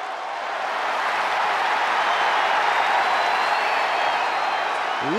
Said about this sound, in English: Listen to this ovation.